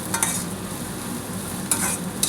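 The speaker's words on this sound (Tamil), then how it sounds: "ஒரே ஒரு பிரிஞ்சி இலை போட்டுட்டு இந்த இதை நல்லா வதக்கிட்டு" A bay leaf and ingredients sauté in hot groundnut oil for a chicken dish, giving a continuous close sizzle with a few sharper spatter bursts.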